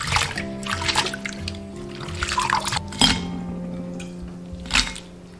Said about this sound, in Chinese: 处理好过后，把螺丝虾清洗干净